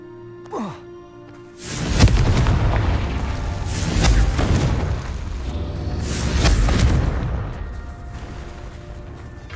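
Confringo blasting-spell explosions in Hogwarts Legacy: a brief whoosh, then a series of loud, deep booms at roughly two-second intervals, each rumbling and fading before the next hits.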